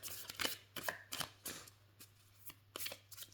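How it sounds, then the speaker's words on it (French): A deck of oracle cards with a slightly sticky finish being shuffled by hand, giving a series of soft, quick riffling bursts at irregular intervals, close and fairly quiet, with no voices. "on arrive quand même à mélanger les cartes"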